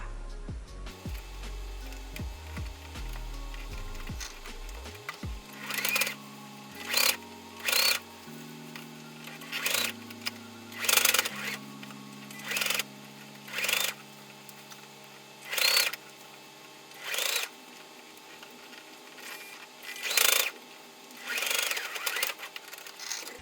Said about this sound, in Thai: แล้วเราก็จะนำไปเย็บทับรอบชิ้นงานอีกครั้งหนึ่งค่ะ